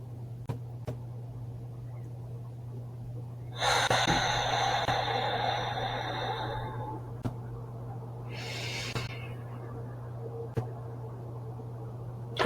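Breath drawn in and out through the nose, a long loud inhale-like rush followed by quieter airy exhale, close to the microphone over a faint steady hum, with no talking.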